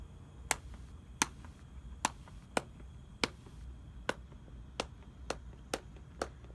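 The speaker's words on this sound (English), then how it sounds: "clap your hands slowly. You should be able to hear the echo as you do it." Slow, evenly spaced single hand claps, about eleven sharp cracks over several seconds, each followed by a faint room echo, close and clear over quiet background.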